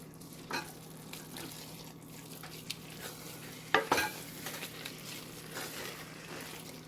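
A spoon stirs leaves into a pot of seafood egusi soup, giving soft scraping and gentle sizzling with one sharper clink of utensil on pot partway through, close and quiet.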